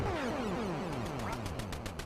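An NES game plays a duck's descending cartoon quacks in quick succession, followed by a rapid electronic beeping pattern, all faint and alone.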